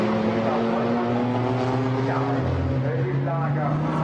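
GT4 race cars lapping the Nurburgring during qualifying in the GT4 European Series, a continuous loud engine drone with shifting pitch as cars pass, under steady commentary talk.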